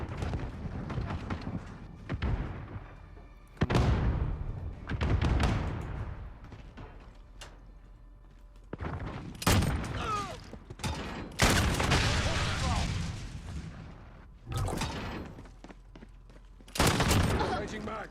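An AA-12 shotgun loaded with explosive rounds fires in Modern Warfare, loud booming blasts in separate bursts with ringing tails, while players talk excitedly between and over the shots.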